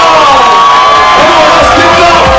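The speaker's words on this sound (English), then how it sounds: "can you clap your hands and receive at this time our honoree" A loud crowd at a surprise graduation party cheers and whoops for the honoree, with shouting voices piling up over a constant din.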